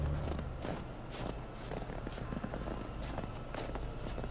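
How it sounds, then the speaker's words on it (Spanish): Footsteps crunching through snow in the video game Until Dawn, a steady walking rhythm of soft, muffled steps up close, continuing throughout over a low ambient bed. "Le pusieron un sonido bien feo a los pasitos de la nieve"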